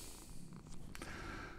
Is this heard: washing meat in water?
no